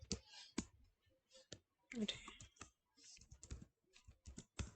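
Someone types Dart code on a computer keyboard, with sharp separate key clicks coming in quick bursts and short pauses, close and fairly quiet.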